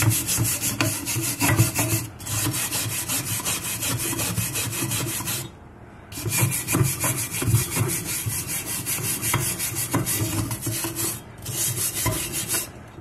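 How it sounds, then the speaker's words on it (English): A brass brush scrubs rust from the edges of a cast iron cornbread pan. The strokes are rapid, rhythmic and raspy, sustained for several seconds between two brief pauses, close and loud with no speech. "he gave me one of his brass brushes, and I'm going to go over the edges here with it just to make sure that I have all the rust out"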